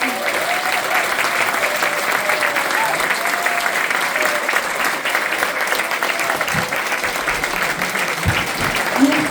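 Sustained applause from an audience at a La France insoumise municipal campaign rally in Toulon, a dense steady roar of many hands clapping throughout, loud and continuous with a faint voice briefly audible underneath.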